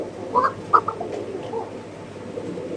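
Pigeons kept by a bird seller, including a pair of Archangels, give a few soft, brief coos close by over a low, murmuring background; no talking.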